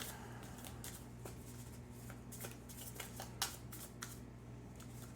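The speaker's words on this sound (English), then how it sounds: "Give this a good shuffle here." A deck of playing cards for a Lord of the Rings card game being shuffled at a table, giving repeated crisp riffling bursts over a steady low hum, close and moderately quiet, with no talking.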